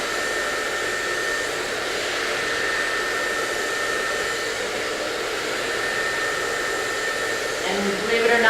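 A hair dryer fitted with a nozzle blows steadily and loudly while drying hair at the base, making a constant airy roar that barely changes and swells slightly at the very end.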